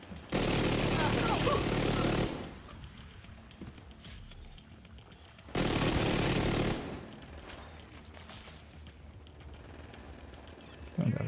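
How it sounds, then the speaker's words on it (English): An automatic turret firing in a video game, two long, loud bursts of rapid fire split by a quieter stretch, with another burst starting at the very end; a player talks during the gaps. "I should just put out my turret there"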